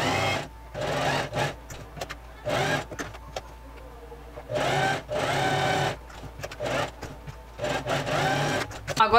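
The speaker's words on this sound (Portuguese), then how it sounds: "Agora eu vou pespontar bem rente à borda de montagem." A sewing machine topstitching costume fabric close to the seam edge, running in several short bursts of whirring stitches separated by pauses, with someone speaking between runs.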